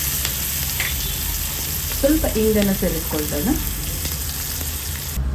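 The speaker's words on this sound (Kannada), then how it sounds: "ಸಾಸಿವೆ ಈ ರೀತಿಯಲ್ಲಿ ಚಟಪಟ ಅನ್ನುವಾಗ" Hot oil crackles and sizzles steadily as mustard seeds splutter, with a brief spoken remark partway through.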